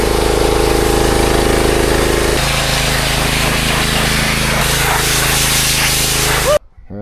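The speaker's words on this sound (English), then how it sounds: "now we're gonna hit it with the pressure washer" Steady close spray of a pressure washer blasting down a 2002 Harley-Davidson Dyna motorcycle during teardown cleaning, with a motor droning underneath the whole time, cutting off abruptly near the end.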